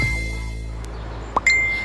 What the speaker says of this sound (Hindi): उसके फोन पर एक बीप की आवाज हुई